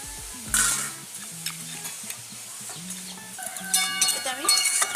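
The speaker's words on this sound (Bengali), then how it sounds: "আমরা ভেজে রাখা বড়িগুলো এবার এর মধ্যে দিয়ে দেবো।" Fried lentil dumplings (bori) are added to a simmering bottle gourd and spinach curry. A sharp splash and sizzle burst comes early, then gentle stirring and frying noises grow louder toward the end, under faint tonal voice-like sounds.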